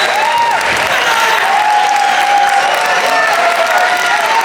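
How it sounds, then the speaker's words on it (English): Steady, dense applause from an audience at a Classic Tetris semi-final at the SoCal Gaming Expo 2025, a loud, continuous wash of many hands clapping with some crowd noise for the two players. "Round of applause for Scuti and Alex."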